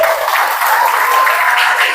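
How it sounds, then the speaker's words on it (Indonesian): Applause from a class of trainee teachers during a school teaching practicum session, a steady even patter of clapping filling the room. "Tepuk tangan untuk kita semua."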